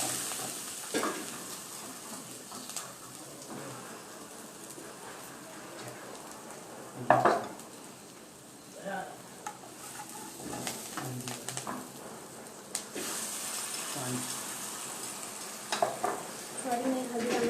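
Ghee and curry leaves sizzle softly in a pan while being stirred, a low crackle with occasional scraping and clinks, fairly quiet and steady.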